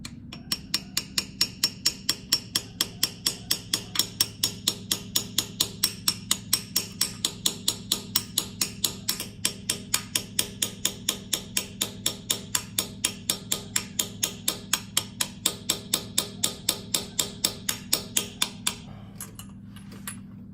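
Rapid, evenly spaced hammer taps on metal, a socket driven onto bolts, dozens in a steady quick rhythm, close and crisp, then stopping near the end.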